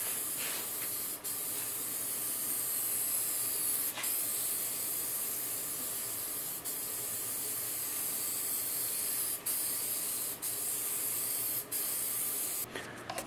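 Cheap spray paint hisses steadily from an aerosol can while coating a homemade wooden solar heater box, a close continuous spray broken by a few brief pauses between passes, with no talking.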